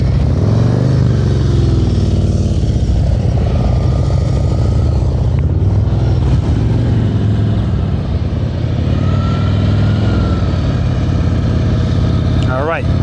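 A Harley-Davidson Street Glide motorcycle engine rumbles steadily at low speed during slow-speed riding practice in a parking-lot drill. The loud, continuous low drone carries throughout, with an instructor talking over it.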